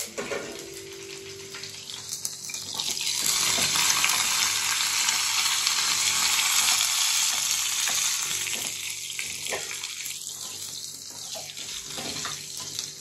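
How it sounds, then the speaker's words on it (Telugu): Curry leaf tempering frying in hot oil, a steady broadband sizzle running throughout, fairly close and continuous with some stirring and faint kitchen noise. "తాలింపు వేగిందండి"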